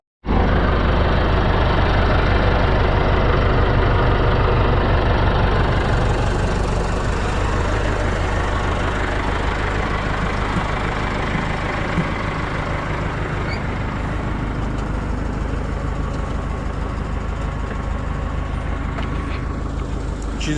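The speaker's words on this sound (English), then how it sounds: "She's a good old girl. Plowed a lot of snow with that tractor." An old antique tractor engine idles steadily nearby, a loud continuous low rumble that holds throughout with no one speaking.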